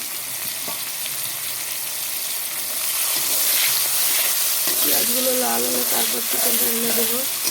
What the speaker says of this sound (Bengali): সব পেঁয়াজগুলো তেলে ঢেলে দিলাম পেঁয়াজটাকে কিছু সময় লাল করে নেব